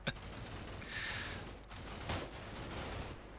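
Gunfire in the military strategy game Combat Mission Shock Force 2, including a .50 caliber round aimed at a balcony, comes as a few faint, distant cracks over a low steady background hum.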